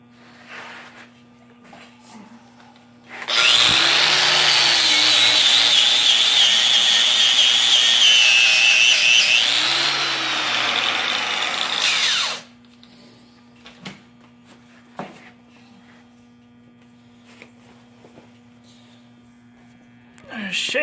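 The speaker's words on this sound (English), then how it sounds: "let's fire up the grinder and see what I made" A homemade grinder starts up and runs loudly for about nine seconds, making a steady high whine that wavers in pitch, then cuts off. Quiet workshop noises follow.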